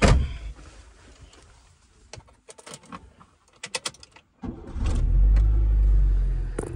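A car engine starts after a few seconds of scattered clicks and handling noises. It settles into a loud, steady, low rumble close by for the rest of the clip.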